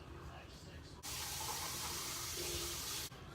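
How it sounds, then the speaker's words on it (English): Water from a tap runs steadily into an emptied can in a home kitchen while beef tips and gravy are being cooked in a Dutch oven, a loud broadband hiss lasting about two seconds between quieter moments of kitchen noise. "I'll rinse the can out to make sure."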